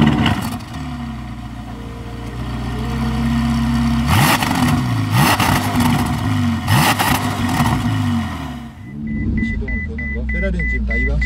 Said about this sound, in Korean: 엔진 시동을 걸 때는 이렇게 키를 꽂아서 끝까지 돌린 다음에 버튼을 눌러서